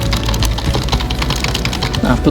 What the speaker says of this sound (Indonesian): maaf ini saya ngetik asal saja